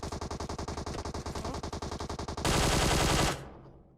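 Rapid automatic gunfire in the mobile battle-royale game PUBG Mobile, a fast regular burst of loud shots that ends in a denser roar before cutting off, with no talk over it.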